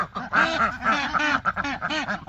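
Ducks quack repeatedly in a dense, overlapping chorus close by on a farm, several birds calling at once in a steady run of harsh, nasal bursts.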